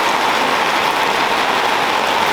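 Heavy rain drums steadily on top of a tank beside a shed, a dense, loud, unbroken hiss of drops throughout, with no voices.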